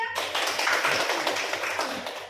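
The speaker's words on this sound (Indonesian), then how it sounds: "Beri tepuk tangan lagi buat kelompok 3." Classroom applause for a student group that has just finished presenting, a dense burst of many hands clapping together, loud and steady from start to end and slowly thinning toward the close.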